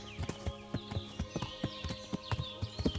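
Horse hooves clip-clop at a steady walking rhythm in the Kingdom Come: Deliverance video game, with about a dozen sharp, evenly spaced hoofbeats close by and no talking.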